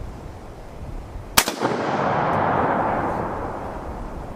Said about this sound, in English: let me see if I can get another center shot like that